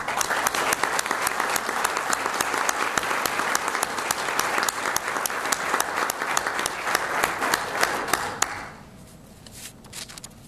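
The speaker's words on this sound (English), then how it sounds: "I'd like to see a round of applause for them as well." Audience applause fills a chapel dedication at a prison, dense and steady clapping for about eight seconds before it thins out and fades to a quiet room.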